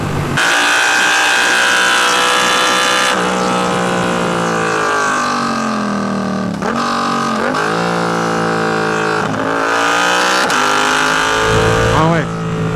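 A Yamaha R7 sport motorcycle engine howls loud and close through a corner, revs rising and dropping sharply as the quick shifter snaps through gears, with a steady roaring drone across the whole stretch.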